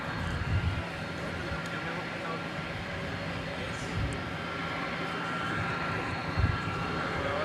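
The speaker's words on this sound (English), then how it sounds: "here is American Flight 70 going to Frankfurt" American Airlines Boeing 777-200ER bound for Frankfurt departing Dallas Fort Worth, its engines a steady low rumbling roar at a distance, with a few soft thumps and faint background murmur.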